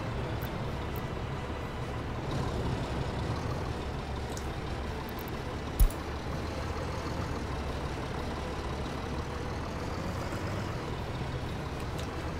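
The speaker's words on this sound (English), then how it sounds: "Additionally, we're going to have a dump truck go." Steady engine rumble of a dump truck in the city-building game Workers & Resources: Soviet Republic, with an even broadband drone and faint beeps, holding constant except for one brief sharp knock partway through.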